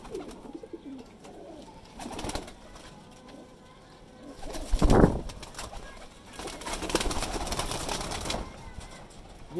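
Teddy pigeons from a breeder's loft in Lahore coo in soft, repeated bursts at close range, with a louder flurry near the middle that may be wing flapping and a faint voice in the background.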